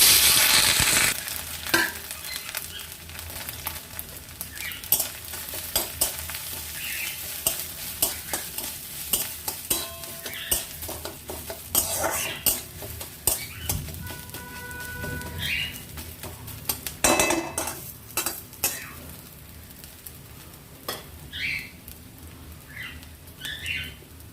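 Ginger and green chili paste frying in hot oil in a kitchen pan, a soft sizzle running beneath repeated scraping stirs, sharp clinks and clatters of the spoon, with faint bird calls in the background.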